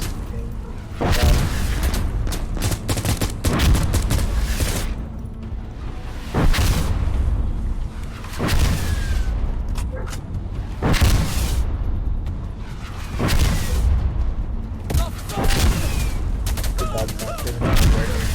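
Gunfire from an old gun in the video game Insurgency Sandstorm comes in loud, repeated booming volleys that rise and fall over the stretch, with short pauses between bursts.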